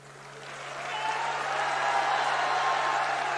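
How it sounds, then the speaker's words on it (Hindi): A crowd at a political rally in Thakurnagar, West Bengal, breaks into applause that swells over the first second and then holds as a dense, steady clatter of clapping. "अरे ताली तो बजा रहे हो भाई"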